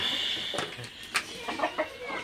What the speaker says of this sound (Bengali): ব্রাহ্মা, কলম্বিয়ান ব্রাহ্মা এবং ইউরোপিয়ান সিল্কি মুরগি আছে